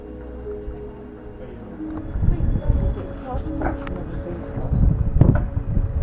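Breezy wind sweeps across the open grounds of Etaples British Cemetery under an overcast sky, a steady low rumble of gusts buffeting the microphone and swelling louder toward the end.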